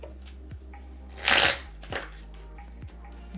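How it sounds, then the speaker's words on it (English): Pokemon trading cards being riffle shuffled, a quiet close-up whir of flicking cards in a short burst, followed by a few soft taps as the deck is squared. "Doing the old riffle shuffle."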